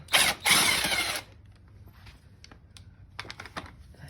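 Two loud rasping bursts, then scattered sharp clicks, as a 22 mm ratchet works loose the axle bolt on a 1983 Honda Shadow 750 motorcycle during tire removal; the clicks sound close.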